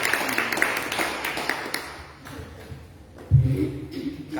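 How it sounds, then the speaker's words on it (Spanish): A church congregation gives the Lord a strong round of applause, a dense wash of many hands clapping that fades after a couple of seconds, followed by a louder low thump and murmuring. "¿Por qué no le damos un fuerte aplauso al Señor?"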